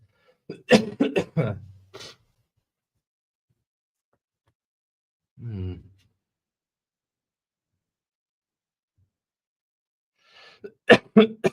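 A few harsh coughs burst out close by, followed by a lone throat sound after a long silence and another cluster of coughs at the end.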